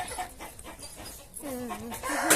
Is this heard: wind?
no